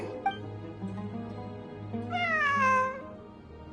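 A cat in Genshin Impact gives one long, wavering meow that swells and fades, heard up close over a quiet humming game ambience with no voices.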